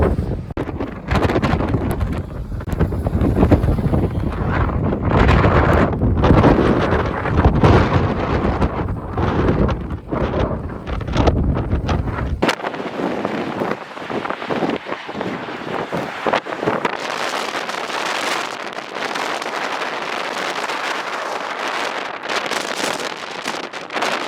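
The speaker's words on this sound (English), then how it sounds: "The wind is picking up." Strong wind batters the microphone on a bridge during a blizzard on Afton Mountain, a deep, continuous roar that shifts to a hissier, brighter rush halfway through; no voices.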